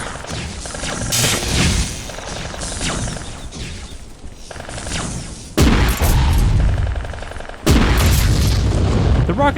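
A rocket launcher fires against humanoid enemies in the shooter Vivisector: Beast Within, with loud booming blasts and explosions, a reload clank and two sharp sudden impacts near the end, all under someone talking.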